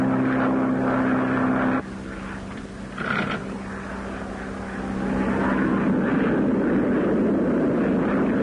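Propeller airplane engine droning steadily in flight in a 1932 film, loud and close, with a brief dip in level midway before swelling back to a full roar.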